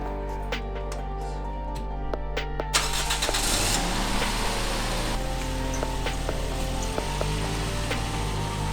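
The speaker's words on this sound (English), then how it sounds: "The engine turning over, it was time to get this car back on the ground." A manual Toyota Yaris engine cranks in short bursts, then catches and settles into a steady, fairly loud idle, heard close up in a garage setting with occasional tool clinks and no talking.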